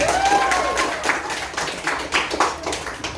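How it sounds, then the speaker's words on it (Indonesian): A classroom of students claps for a classmate, a brief burst of scattered hand claps with a voice rising briefly over the start. "Beri tepuk tangan Kevin."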